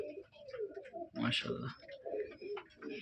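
A pair of flying pigeons, a male and a female, coo in soft repeated phrases close by, while someone speaks over them.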